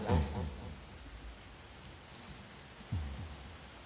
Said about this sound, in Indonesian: Nah, alhamdulillah hujan.